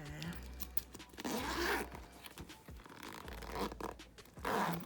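A nail kit pouch is unzipped in short scratchy pulls, close and fairly loud, with a soft voice murmuring between the zips.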